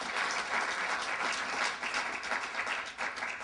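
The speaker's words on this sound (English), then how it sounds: "let's give a round of applause to All African Revolution People's Party" Sustained applause from a conference audience at an annual political gathering, dense and steady clapping filling the room at moderate loudness throughout.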